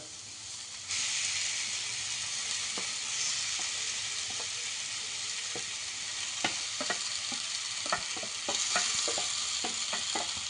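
Chilli and onion sizzle in a pan with roasted eggplant, a steady hiss under repeated sharp spatula scrapes and taps that grow more frequent toward the end, the frying swelling louder in the last seconds.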